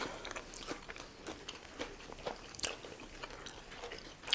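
Crisp crunching bites and chewing of a tofu taco with coleslaw right up close, a quick irregular series of crackly snaps with no talking.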